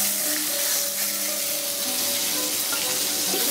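Oil left frying in a pan after a hilsa fish head was removed, a loud steady sizzle close up, with faint tonal hums behind it and no talk.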